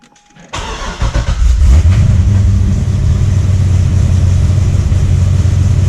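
A C6 Corvette Z06 with newly fitted heads, cam and intake cranks briefly, fires up and revs loudly, then settles into a deep, heavy idle, close by, with no talking.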